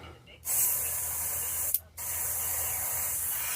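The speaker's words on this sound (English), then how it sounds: "And we'll get it to spraying real good." Steady hissing spray of an airbrush painting a golden trout pattern, starting after a brief quiet, cutting off for a moment, then resuming loud and continuous up close.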